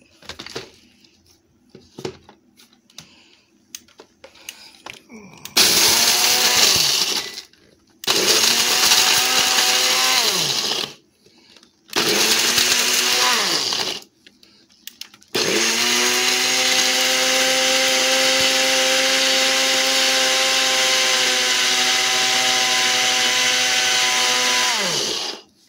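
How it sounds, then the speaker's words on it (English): A NutriBullet blender whirs loudly while blending dehydrated milk, running in three short bursts separated by pauses and then in one long continuous run, with faint handling noises in between. "now I'm about to put it in my NutriBullet and blend that thing up"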